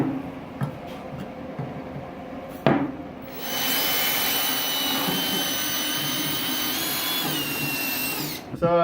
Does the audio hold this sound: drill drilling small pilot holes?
yes